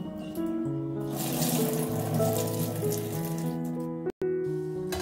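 Barnyard millet is rinsed in water, with a steady rush of water filling and sloshing nearby over continuous music, broken by a brief cut near the end.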